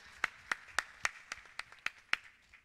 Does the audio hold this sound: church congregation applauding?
yes